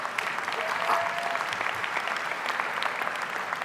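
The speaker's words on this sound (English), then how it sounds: "give ourselves a round of applause" A high school commencement audience applauds, an even, continuous patter of many hands clapping at moderate volume with a faint crowd murmur underneath.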